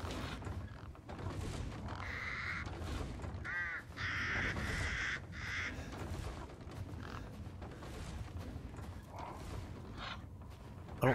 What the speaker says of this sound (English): I don't want to kill these crows.